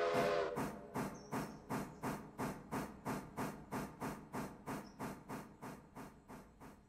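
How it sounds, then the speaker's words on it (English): A steam locomotive in the Railroader simulation chuffs under throttle, with sharp, evenly spaced exhaust beats and hiss that settle into a steady rhythm, plus a brief whistle-like tone. "Give her some throttle. Oh, she chuffing."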